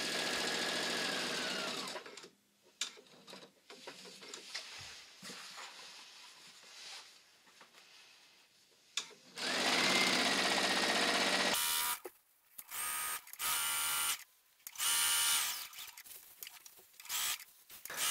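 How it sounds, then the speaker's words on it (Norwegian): A domestic sewing machine stitching fabric for a towel, running in loud whirring bursts of several seconds with short stops and quiet handling gaps between, close and without talk. "Og det er der jeg begynner å sy."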